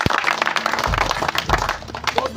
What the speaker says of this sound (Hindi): दीपक जी के लिए जोरदार तालियां बजाइए